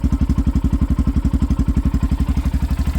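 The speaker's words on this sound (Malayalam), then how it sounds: "ഈ എഫ്സെഡിൻ്റെ രസകരമായിട്ടുള്ള സൗണ്ട് ഇടാം." A 2023 Yamaha FZ motorcycle engine idles close up, a steady, even low thumping pulse with a regular beat and faint mechanical clatter, with no talking.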